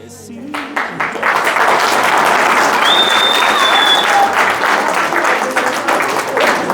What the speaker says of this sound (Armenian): Այս ծափերը քո 70-ից գեղեցիկ ապրած տարիների համար էին